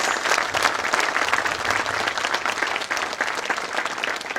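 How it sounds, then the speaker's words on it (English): Loud, continuous audience applause for participants at a school class performance event, a full crowd clapping steadily at close range. "Can we hear a loud round of applause for all our participants?"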